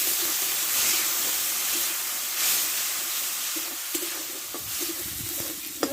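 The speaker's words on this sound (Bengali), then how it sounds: "মশলাটা ভালো করে কষে নেব" Ground chilli, turmeric, cumin and coriander powders frying in a pan for a fish-fat and vegetable Malabar spinach dish, giving a steady soft sizzle with light stirring scrapes, close and fairly quiet throughout.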